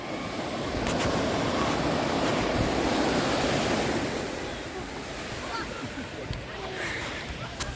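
Ocean waves wash continuously onto a beach in Cabo, a broad steady roar with wind buffeting the microphone, swelling in the first half and then easing slightly.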